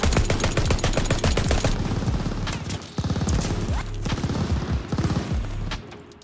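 A Whitley LMG in Call of Duty: Vanguard fires in long, rapid automatic bursts, each shot a sharp close crack, with a brief pause midway before the stream of fire picks up again.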